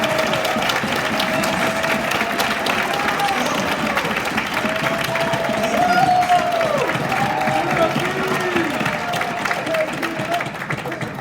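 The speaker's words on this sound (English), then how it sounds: "Will you give me a round of applause?" Audience at a Vivint solar event in Las Vegas claps and cheers steadily and loudly for about eleven seconds, a dense wash of applause with shouts and voices mixed in.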